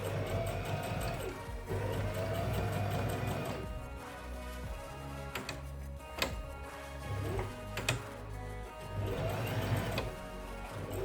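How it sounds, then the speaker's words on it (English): A sewing machine top-stitching the collar of a leather trench coat, running in a steady mechanical whir with rapid ticking, pausing briefly midway and again toward the end before resuming, close and moderately quiet. "I make 2 top stitches above, retreating a few millimeters from the seam, making same thing for the top collar"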